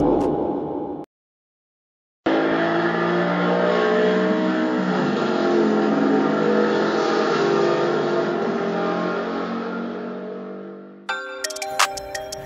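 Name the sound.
1/32 scale model cars racing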